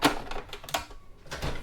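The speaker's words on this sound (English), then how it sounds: "I like to just take a pair of scissors" A pair of scissors snipping replacement trimmer line for a Wild Badger WB26BCI string trimmer, giving several short, crisp clicks and snaps spread across a brief moment, close by with no talking.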